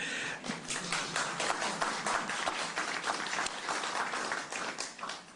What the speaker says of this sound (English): I see some people snapping and clapping quietly in the background. It's okay to do it out loud.